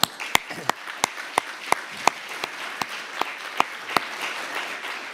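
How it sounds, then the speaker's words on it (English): An audience claps for Tobias at a financial crises and resilience session: a sparse, scattered applause of distinct individual claps with light room noise between them, small and fairly close rather than a full ovation. "let's give Tobias a big round of applause"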